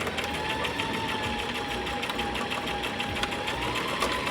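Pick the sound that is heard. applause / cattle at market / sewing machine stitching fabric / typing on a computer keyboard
sewing machine stitching fabric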